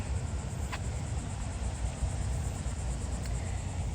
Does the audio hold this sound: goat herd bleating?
no